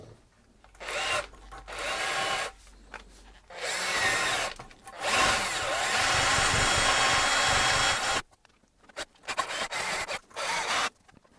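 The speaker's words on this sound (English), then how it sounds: "I'm running the drill in reverse there," Power drill running in reverse during a front brake service on a 2007 Ford Ranger 2.5, with several bursts of loud whirring cutting in and out and one long sustained run before a quiet pause.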